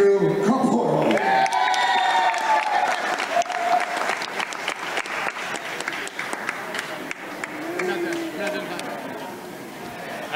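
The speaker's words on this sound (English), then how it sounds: "I just want to keep clapping for Nong Rose." A crowd at a Muay Thai championship fight applauds and cheers loudly and steadily after a technical knockout result, with shouts and voices mixed into the dense, continuous clapping.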